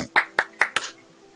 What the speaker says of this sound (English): I like to hear a round of applause.